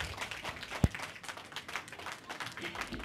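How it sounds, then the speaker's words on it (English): Light, scattered clapping from a studio audience as guest Claire leaves, soft and steady throughout, with one sharper thump near the start. "Clap for Claire"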